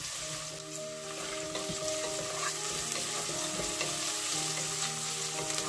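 Ginger sizzles and fries in a hot pan for a tinola chicken stew, a steady close crackle with occasional stirring scrapes throughout.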